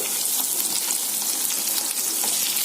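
Tomato and fresh curry leaves sauté in oil for pappu charu, a loud, dense, close-up sizzle that hisses steadily throughout with no pauses.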